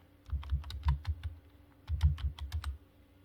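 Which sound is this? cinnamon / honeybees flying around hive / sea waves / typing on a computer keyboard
typing on a computer keyboard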